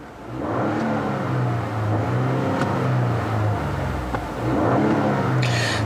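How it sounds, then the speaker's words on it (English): A 2018 Ford F-150 pickup's 2.7-liter EcoBoost V6 turns over and settles into a smooth, low idle hum that holds steady, with a brief rise in revs near the end. "push this button here to fire up the engine"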